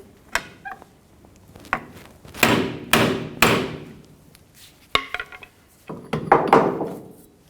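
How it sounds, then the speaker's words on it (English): A pry bar and hammer work a CV joint loose on the front driveshaft of a 2007-2017 Ford Expedition, giving a string of sharp metallic knocks and thuds, some single and some in quick pairs, close and fairly loud with no talk. "Using a pry bar and a hammer, we're going to separate the CV joint."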